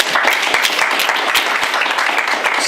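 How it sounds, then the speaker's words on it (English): An audience claps at a town candidates night in Clinton, Massachusetts. The applause is dense and steady, with many individual hand claps audible, and it lasts throughout with no one speaking. "Round of applause."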